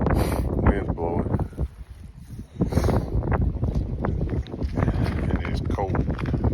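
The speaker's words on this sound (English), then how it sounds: "Wind's blowing." Cold wind gusts and buffets the microphone on a mountain trail, a rough steady roar that swells and dips, with someone talking over it.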